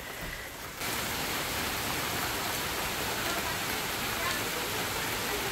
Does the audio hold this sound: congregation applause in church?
no